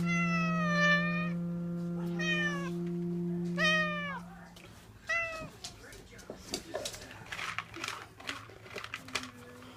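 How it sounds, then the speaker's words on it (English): A house cat meows up close, giving about four drawn-out, wavering meows in a row, followed by softer rustling and crinkling noises. "Cat's meowing."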